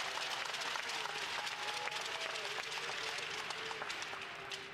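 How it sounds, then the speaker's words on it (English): A speed skating arena crowd at a World Cup meet in Quebec City applauds and cheers, a sustained roar of clapping and whistle-like calls spread across the space, steady and then easing slightly toward the end. "Listen to that crowd."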